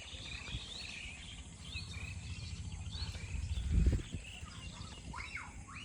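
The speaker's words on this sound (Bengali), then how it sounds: "পাখির ডাক শুনতে পাচ্ছেন, সন্ধ্যার পরে" Birds call in short, scattered chirps over a steady insect and cricket drone in a village after dusk, with a brief low rumble partway through and no talking.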